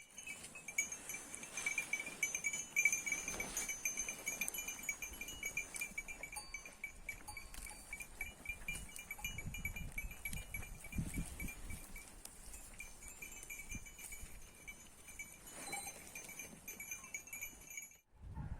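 Goats feed at troughs on a farm, with soft rustling, munching and occasional clinking of bells and metal spread across a quiet, fairly distant scene.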